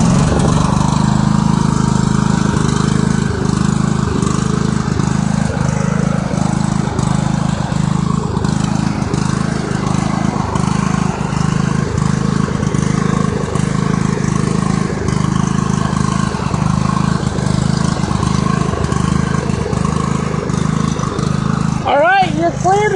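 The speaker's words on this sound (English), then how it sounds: "Turn up the motor." A tractor motor runs steadily with a throbbing engine drone throughout, loud and close, while people talk over it; near the end the pitch briefly rises as the engine revs.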